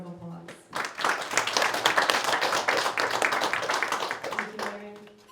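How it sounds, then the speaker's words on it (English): Audience applause at the grand opening of a Hmong American Center, rising sharply after a brief pause and holding as dense, steady clapping for several seconds before tapering off as a voice returns. "Please give her a round of applause."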